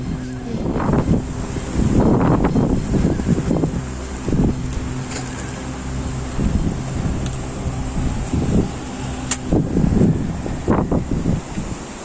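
Strong wind gusts roar in repeated surges at a forest campsite in Mulshi at night, buffeting loudly with a steady hum underneath and no voices.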